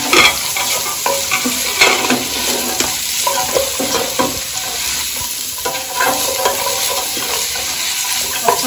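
Carrots and garlic cook in a pot for a curried creamy sausage stew, giving a loud, continuous sizzle broken by stirring scrapes and clinks near the mic, with no talking.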